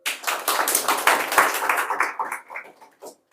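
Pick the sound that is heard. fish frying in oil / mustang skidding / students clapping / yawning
students clapping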